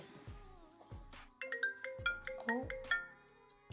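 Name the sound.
phone ringtone, incoming call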